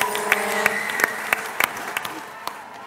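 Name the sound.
applause for the next contestant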